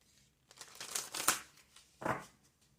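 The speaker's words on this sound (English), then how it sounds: "Last shuffle." Oracle cards riffled in a last shuffle, a few quick papery bursts of flicking and crinkling that swell and fade over a couple of seconds, close and fairly quiet with no talking.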